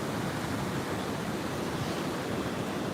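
Large, lumbering waves break at Carmel Beach, a dense wash of churning surf filling the whole moment evenly, loud and close with no voices.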